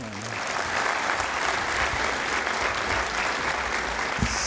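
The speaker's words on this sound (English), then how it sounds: "you deserve a bigger clap than that one" An audience applauds at a talk on the history of the Lahore High Court, steady and full-bodied clapping from a large crowd that holds at an even level throughout.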